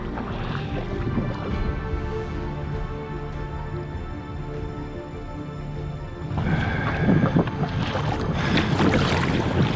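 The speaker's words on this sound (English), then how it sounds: "And these waves and wind, but I can see my takeout." Wind and choppy waves on a river during a solo wilderness canoe trip in the Northwest Territories, a steady roar of gusts and splashing water that grows louder and rougher toward the end.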